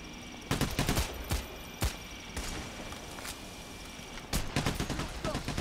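Bursts of turret gunfire in the Payday: The Heist bank robbery game, sharp cracks arriving in irregular clusters with short gaps between them, mid-distance and fairly loud, with some talk in the background.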